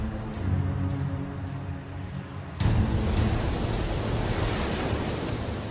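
Surf breaking around a beached 36,000-ton freighter wreck, the New Carissa, lying in the surf zone: a steady broad roar of waves, rising into a louder crashing wash midway and staying constant, with no voices.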